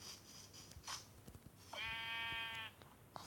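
A sheep in the video game Minecraft gives one wavering bleat of nearly a second, clear but quiet, with soft footsteps and thuds around it.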